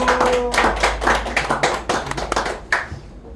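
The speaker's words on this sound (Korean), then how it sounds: "예, 박수." Applause from a seminar audience, a short burst of clapping that peaks, thins out and then returns briefly before fading, heard close and fairly loud.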